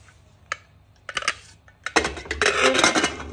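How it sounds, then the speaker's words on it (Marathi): A pressure cooker holding potatoes in water is closed with its lid: a few sharp metallic clicks and taps, then a louder clatter and scraping as the lid is fitted. "आता आपण कुकरला झाकण लावून घेऊत।"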